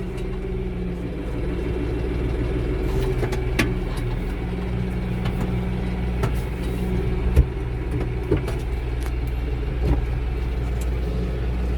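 A field tractor engine of about 65 horsepower runs at a steady low rumble, idling or working at an even pace, with a few faint knocks and clicks rising above the drone.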